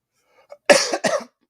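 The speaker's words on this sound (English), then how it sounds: "I will have this cough for about a week or 2 or 3 or 4." A single harsh, close cough in two quick bursts, preceded by a faint intake of breath, then silence.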